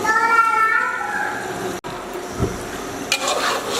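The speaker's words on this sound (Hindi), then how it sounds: "घिया तोरी को मैंने ऑयल में 6-7 मिनट के लिए भून लिया है" Ghiya tori gourd fries in oil while being stirred, steady sizzling hiss with scraping stirs and a clink of the pan, and a voice speaking over the start.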